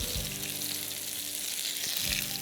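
Potatoes sizzling in hot, flaming lard for roasting, a continuous loud hissing fry with a couple of soft thumps as they go in, close by.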